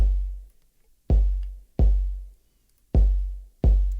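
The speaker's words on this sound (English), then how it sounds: "We'll start with the kick here." A processed kick drum from an electronic track hits alone, five deep booming thumps with long decaying tails, spaced unevenly with silence between them.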